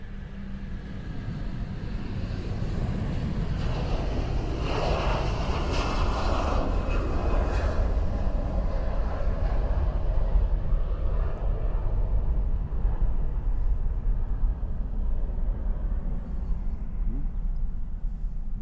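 Heavy Boeing 777 jet landing on runway 4 right at Honolulu, a loud continuous engine roar that swells and stays steady throughout, with a broad low rumble and no talk.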